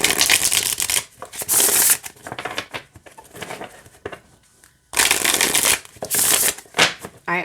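A tarot card deck is shuffled in several crisp, riffling bursts of papery flutter, close and loud, separated by brief quieter pauses of handling.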